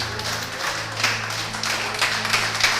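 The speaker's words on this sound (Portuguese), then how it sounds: "Você pode aplaudir o Senhor?" Scattered hand clapping from a church congregation rises over a steady low hum of sustained instrumental tones, the claps fairly close and uneven in rhythm.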